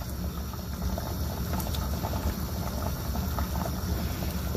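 Pot of salt cod with plantain dombrés and carrots simmering in sauce, a steady low bubbling and seething that goes on without a break.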